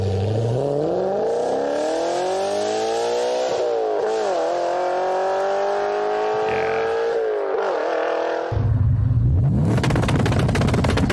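A manual Audi RS4 B7 4.2 V8 pulls hard through the gears, the engine note climbing steadily with short dips at each shift, loud and close, before cutting to a harsh roaring burst at the end.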